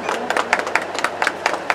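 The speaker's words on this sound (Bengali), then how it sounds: "সবাই একটু হাততালি।" An audience at an art academy award ceremony claps together, a steady run of close, fairly loud, sharp claps with no speech over them.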